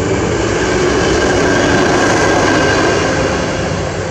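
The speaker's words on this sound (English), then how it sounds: "Another train, that's the fourth one" A train rumbles steadily past nearby, a loud, continuous roar of wheels and engine filling the whole clip.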